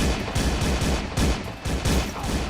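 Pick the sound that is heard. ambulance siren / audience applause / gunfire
gunfire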